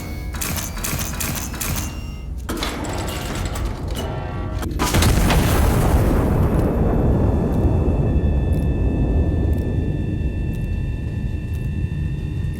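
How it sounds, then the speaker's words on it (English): A massive artillery gun in the video game Iron Nest fires after mechanical loading clatter, a loud heavy boom that rolls into a long rumbling decay with a lingering tonal hum. "We'll fire the left gun."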